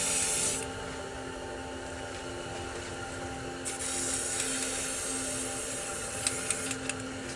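Glow-in-the-dark spray paint hisses from a can in a short burst at the start, then in a longer steady spray, followed by a few sharp clicks near the end. It is close and even, with no talking.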